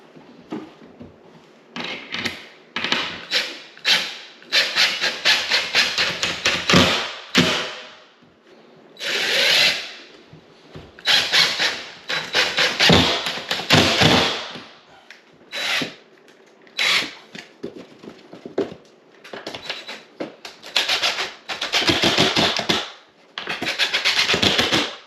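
A power drill drives screws into wooden backing blocks behind a drywall patch, with repeated loud whirring bursts of a second or two separated by short pauses, close and dominant throughout.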